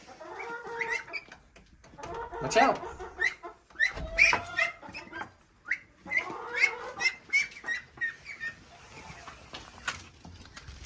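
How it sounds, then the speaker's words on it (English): Chickens cluck and squawk in short bursts close by, with a brief spoken warning partway through. "We got the chickens on this side."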